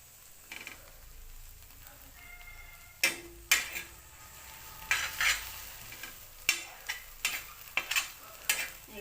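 Goat meat for a spicy brain fry sizzles in a pan while a spatula stirs and scrapes, giving sharp irregular knocks and scraping bursts over a low, continuous frying hiss, close and fairly loud.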